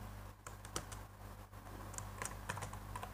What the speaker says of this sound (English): I will type the value serial number